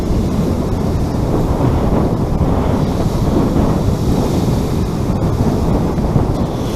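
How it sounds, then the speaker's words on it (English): Huge sea waves roll onto a Suffolk beach in a steady, loud, unbroken roar, with strong wind buffeting the microphone throughout and no voices. "these waves that are coming in are absolutely massive"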